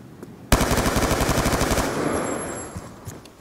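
Rapid bursts of MP7 fire from bump firing in a video game, a loud close rattle of fast repeated shots starting abruptly and running about a second and a half before trailing off into a fading echo.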